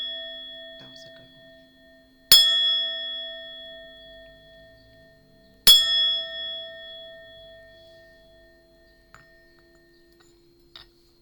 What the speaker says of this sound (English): I'm gonna use my little bell because I didn't like that first hit.